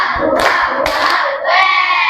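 A group claps in rhythm for a school cheer, with dense bursts of hand claps landing in a quick pattern, close and loud, mixed with voices chanting along.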